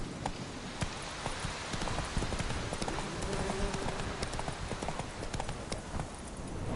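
Horse hooves galloping in The Witcher video game: a rapid, steady clip-clop that runs close and loud through the whole stretch, over a faint game background.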